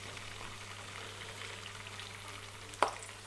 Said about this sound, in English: Oh, lovely sizzle.